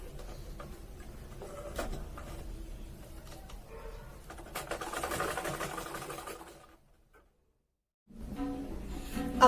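A sewing machine stitching a salwar runs in uneven bursts of rapid mechanical clatter, fairly close, then stops for about a second before starting again.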